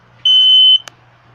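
A Kidde P9040 photoelectric smoke alarm lets out a single loud, piercing electronic beep lasting about half a second, followed by a short click, alone over faint background hum.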